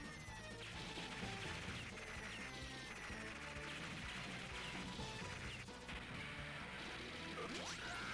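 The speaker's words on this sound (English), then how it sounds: "Down goes the helicopter crashing into the fuel" A helicopter crashes into fuel in the Metal Slug arcade shooter, a dense, continuous wash of explosions, metallic smashing and game music, steady and busy throughout with no talk.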